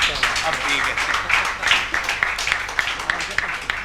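Audience clapping at a book launch during an awards ceremony, a brisk, fairly loud patter of many hands with sharper individual claps standing out, and some voices underneath.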